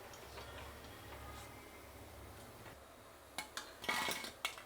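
Fried drumstick-leaf bondas being lifted out of hot oil, a low bubbling hum followed by several sharp metallic clinks of a slotted spoon against the pan, close and fairly loud near the end.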